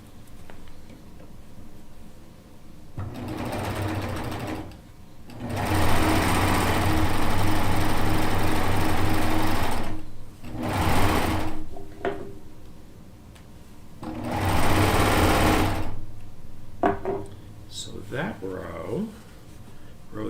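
A home sewing machine pieces rows of a Kaffe Fassett 'Losing My Marbles' quilt, its motor whirring through several bursts of stitching, one long and a few shorter, separated by pauses.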